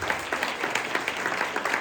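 Audience applause at a community service-day talk on asylum seekers in New York City, a dense, steady wash of many hands clapping for nearly two seconds with no voices over it.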